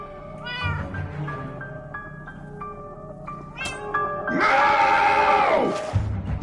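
A cartoonish cat in the Minecraft Story Mode game meows several times, with a loud drawn-out caterwaul near the end, heard close over a faint game music background.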